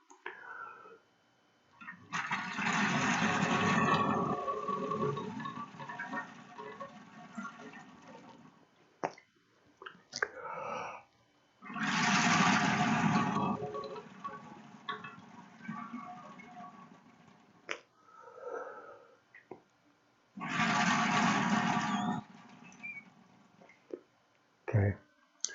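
Water being blown out of a PC liquid-cooling radiator in three long, loud gusty bursts of spluttering air and liquid, separated by quiet pauses with drips and small clicks.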